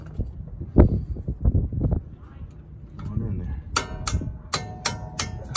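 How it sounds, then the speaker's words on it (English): Several sharp metallic taps ring out near the end, following a man's speech, with bright clinking strikes in quick succession, from a hammer tapping a rear brake part on a 2002 Ford E-450. "Tap it with the hammer."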